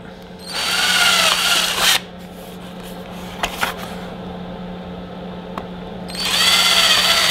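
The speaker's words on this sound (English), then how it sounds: "On the bottom, we've got to drill two holes." A power drill whirs in two loud bursts, first about a second and a half, then again at the end, with brief clicks and quiet between, drilling two holes in a Mk7 GTI intake part.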